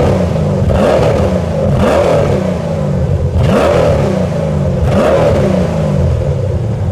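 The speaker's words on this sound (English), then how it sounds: "let's take a listen to a couple of revs from the Saleen S7" A Saleen S7 supercar engine revs hard several times in close succession, each surge rising and falling loudly and near, with no talking over it.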